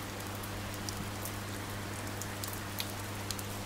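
Steady rain falls in the video game Oxenfree, a dense even hiss with scattered faint drop ticks, moderately quiet and continuous throughout.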